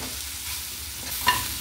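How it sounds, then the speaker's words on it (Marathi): Ground paneer masala paste sautéing in a pan, a continuous close sizzle with a quick stirring scrape near the end. "हे छान आपल्याला परतून घ्यायचं आहे।"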